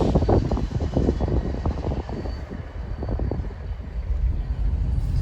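A small solo train idling, giving a steady low rumbling drone with a broad mechanical hum that stays loud and constant throughout, without distinct voices.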